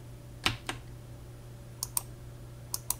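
Sparse key presses on a computer keyboard attached to a Windows 3.11 PC, about six crisp clicks in small irregular groups, close and fairly quiet against a steady low hum, with no talking.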